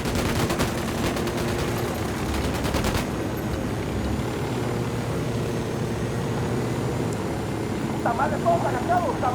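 Rapid automatic gunfire from the video game Ghost Recon Wildlands, a dense burst in the first few seconds, then a steady engine-like drone and distant shots, with voices talking over the mix.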